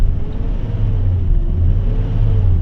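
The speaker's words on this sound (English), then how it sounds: "Give it a couple revs" A BMW car engine, a cheap used one, runs steadily with a low, continuous rumble and a slight rise and fall in pitch as it is given a couple of light revs, close and loud with no talking.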